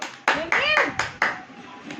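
Several sharp hand claps, about four in two seconds, from people clapping along for a baby at home during garba play, with a voice sounding between and over the claps.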